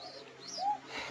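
A koka pigeon, an old bird about twelve to fourteen years of age, gives a single soft, faint coo.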